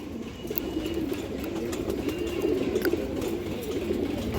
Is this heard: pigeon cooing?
yes